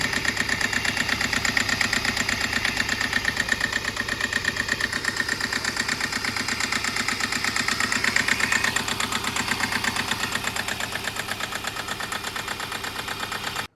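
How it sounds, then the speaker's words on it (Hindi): A flood-damaged Kia Seltos engine idles loudly and steadily up close, with a regular knocking tick running through the whole run and no voices. "मतलब जो इंजन है थोड़ी सी नॉकिंग कर रही है"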